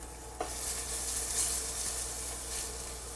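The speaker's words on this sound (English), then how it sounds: "A little olive oil, some minced up garlic going to go in there." Minced garlic sizzles in olive oil in a pan, a dense crackling hiss that holds steady throughout with a brief clink near the start and no one speaking.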